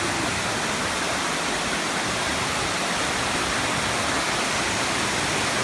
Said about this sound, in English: you can see this beautiful waterfall